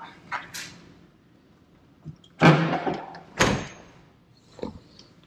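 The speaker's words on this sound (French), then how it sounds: "On ferme la porte." Doors of a vintage car shut in a quiet space, with small clicks and a rattle of the handle, then two solid, loud thunks spaced about a second apart.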